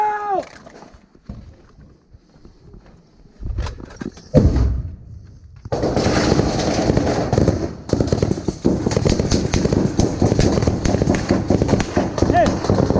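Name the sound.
frag grenade explosion amid gunfire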